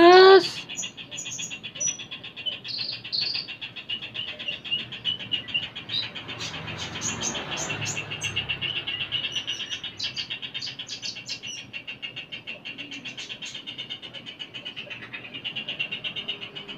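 A white-rumped shama (murai) songbird sings close by, a rapid string of sharp whistles, chirps and trills repeating over a steady background hum.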